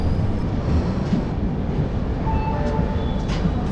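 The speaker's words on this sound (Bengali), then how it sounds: "ক্রস করছি বর্ধমান জংশন।" A superfast express train rolls through Bardhaman Junction without stopping, heard from inside as a loud, steady rumble with a faint high squeal of wheels on rails, no voices.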